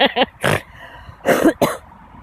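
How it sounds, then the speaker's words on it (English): A woman coughs and clears her throat in several short, close bursts: a quick double cough, then a rougher hack, then two more coughs, with quiet gaps between. "I got a cough"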